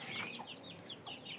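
Breeding chickens, a rooster and hens, clucking softly in a yard, several short faint chirpy clucks in quick succession over low background noise, with no talking.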